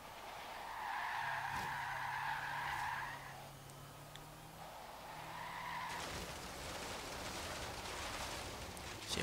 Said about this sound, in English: all this car's really going to make in terms of noise is tyre noise